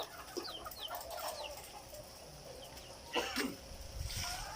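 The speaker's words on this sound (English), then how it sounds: "So this is the chicken that I have." Layer-house chickens clucking and chirping in short scattered calls over a steady low background hum, faint and somewhat distant, with a brief louder rustle partway through.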